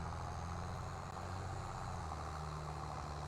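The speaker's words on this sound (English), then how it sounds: "this is the tractor that just came out on the mod hub" A newly released Farming Simulator mod tractor sits idling, its engine giving a steady, low, continuous rumble with no talking over it.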